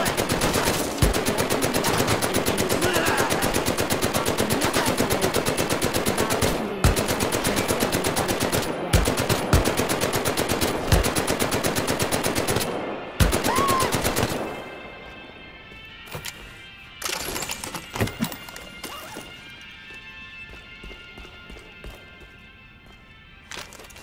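Uncle Nate's Rough Rider, a family heirloom weapon in the Medal of Honor: Above and Beyond video game, fires in a loud, sustained rapid burst for about fourteen seconds, then gives way to sparse clanks and mechanical sounds.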